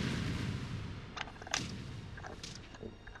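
Bombs burst in the side-scrolling brawler Castle Crashers, several punchy booms spread across a few seconds, moderately quiet and heard alone, without talk.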